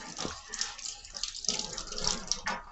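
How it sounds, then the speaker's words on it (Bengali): Hands being washed under a running tap, with a steady close splash and trickle of water and brief drips, fairly quiet. "কিন্তু আমার হাতটা এখন ধুতে হবে।"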